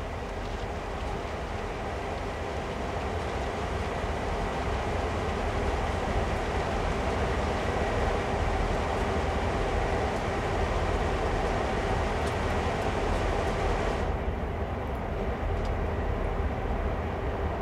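Idling locomotives in Train Sim World 2020 give off a steady, loud diesel rumble and mechanical hum with faint clicks. The drone holds level throughout, and the hiss in the upper range drops away near the end.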